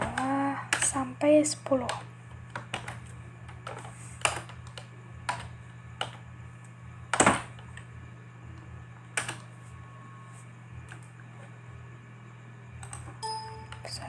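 Keystrokes on a computer keyboard while entering statistics data, scattered clicks and sharp taps spread through the stretch over a steady low hum, with a voice speaking briefly at the start and one louder key strike near the middle.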